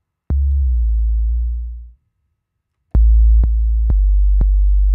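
Deep 808 bass tones from a trap beat programmed in Logic: one long sustained low note that slowly fades out, then after a short silence a steady run of repeated sub-bass notes with sharp clicky attacks, loud and alone.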